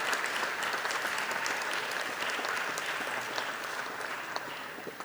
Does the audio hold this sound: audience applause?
yes